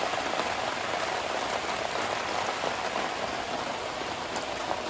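Steady rain falls on a fresh concrete job site under blue skies, a dense, even hiss of drops spattering close by, continuous and alone with no voices.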